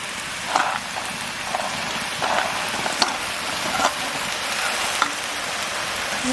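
Soaked chickpeas going into a hot frying pan, a steady close sizzle and crackle with scattered sharper pops and spatters throughout.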